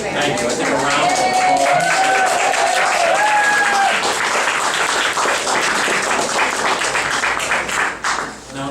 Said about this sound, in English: I think a round of